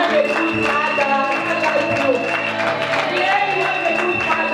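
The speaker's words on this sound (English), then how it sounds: "can you clap for him?" A church congregation at a prophetic ministry service claps and cheers in a reverberant hall, steady crowd applause running under a preacher's raised voice and sustained music.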